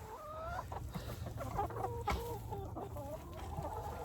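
Several chickens cluck and murmur close by in a coop in a steady, busy chatter, with no talking.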